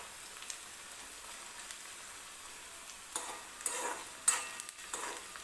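Potatoes frying in a pan for aloo poha, stirred with a spoon: a soft steady sizzle with scraping spoon strokes growing louder toward the end, close and alone.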